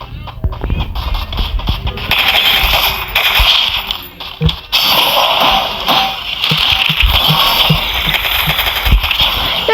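Gunfire in a mobile shooter video game: dense bursts of shots and crackling blasts fill the whole stretch, loud and busy, with brief lulls.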